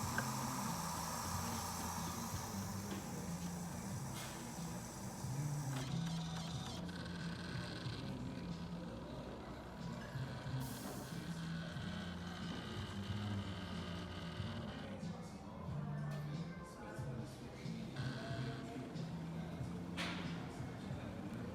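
A Kalerm One Touch espresso machine froths milk, giving a quiet, continuous bubbling hiss over a low mechanical hum, with brief clicks and rattles scattered throughout.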